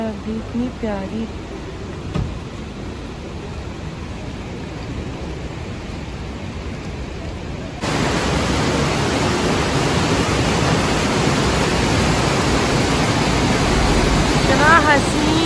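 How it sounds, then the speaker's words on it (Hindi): Steady rain hiss that grows louder and denser halfway through, with faint voices briefly at the start and end. "बारिश हो रही है अभी, इतनी प्यारी।"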